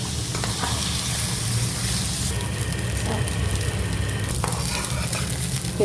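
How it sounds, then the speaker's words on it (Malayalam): Rice frying in ghee in a pan over a medium flame, a close, continuous dense sizzle with faint scraping as it is slowly stirred. "ഇത് ഇങ്ങനെ നമ്മൾ ഫ്രൈ ചെയ്യുമ്പം ഒരു ചെറിയ സൗണ്ട് വരുന്ന ആ ടൈം വരെ നമ്മൾ ഫ്രൈ ചെയ്യുക."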